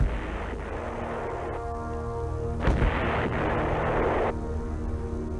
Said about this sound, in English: supporting fire from the Army's huge 175mm self-propelled guns